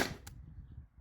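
A modified T4E TR68 (HDR68 Gen 1) fires a 9.88-gram PVC-coated steel ball over a chronograph, giving one sharp close pop followed by a short faint mechanical rattle.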